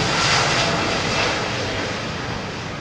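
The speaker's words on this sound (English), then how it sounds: "Look at this little dinky Dash 8." A small Dash 8 turboprop airliner at London Heathrow gives off a steady, moderately loud engine roar, with no other sounds standing out over the short stretch.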